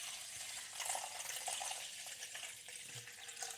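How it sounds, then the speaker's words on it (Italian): Water pours steadily into a large mixing bowl for a big batch of pizza dough, a faint continuous splashing trickle with no talking. "Ok, adesso vado ad aggiungere l'acqua."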